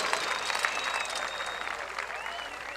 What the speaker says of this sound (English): A big round of applause for our musical showcase